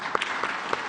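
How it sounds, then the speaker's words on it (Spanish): Brief burst of applause from an audience at the Mexican president's morning press conference, a quick patter of claps lasting about a second at moderate loudness. "Un aplauso"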